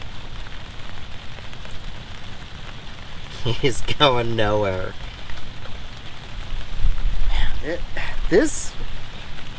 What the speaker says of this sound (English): and pouring down rain